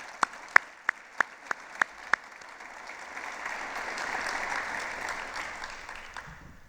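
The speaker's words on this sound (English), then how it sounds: "Please give these fine leaders a round of applause." An audience at an evening livestreamed community event claps, a few sharp isolated claps at first, then a soft sustained round of applause that swells and fades, heard from a distance.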